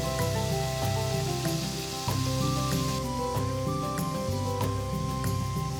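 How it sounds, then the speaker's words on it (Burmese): Pork frying in sesame oil gives a steady, dense sizzle that runs throughout, close and loud, with a tonal hum and faint clicks layered over the constant crackle. "နှမ်းစီလေးထည့်ပြီးတော့ကြော် ပြီးတာပေါ့နော်"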